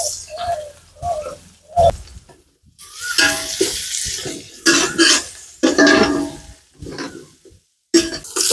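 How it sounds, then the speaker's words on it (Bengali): Onions fried in a pan until reddish-brown for a crab masala, heard as loud, intermittent bursts of sizzling and stirring scrapes separated by short quiet gaps. "পেঁয়াজটা লাল করে ভেজে নেব"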